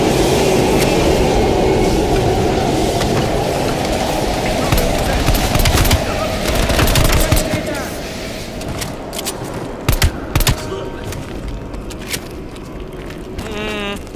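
Train rumbling past in the Call of Duty Cold War single-player campaign, a loud, dense continuous roar with clattering bursts and scattered gunfire-like cracks.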